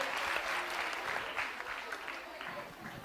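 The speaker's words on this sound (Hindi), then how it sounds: "तालियां बजाइए, तालियां जोरों से, जोरदार तालियां" Studio audience at a quiz show applauding steadily for about three seconds, a dense, fairly loud patter of many clapping hands with a voice faintly mixed in.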